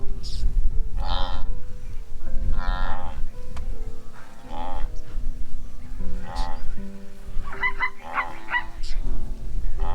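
A herd of wildebeest on the Masai Mara plains during the Great Migration gives repeated deep, nasal grunting calls, several animals overlapping near and farther off over a steady low rumble, with no talk.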